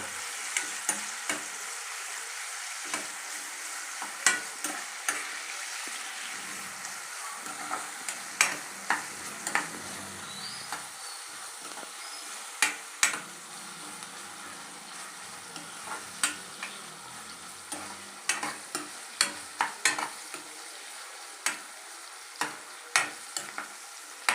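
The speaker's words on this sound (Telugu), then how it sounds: "ఇప్పుడు ఆనియన్స్ వేసుకుందాం కొంచెం దూరంగా వేయంత వరకు కలుపుకుందాం" Onions and green chilies frying in oil for cabbage fry, a steady sizzle close by with frequent scraping and clicking as a spoon stirs the pan, no talk.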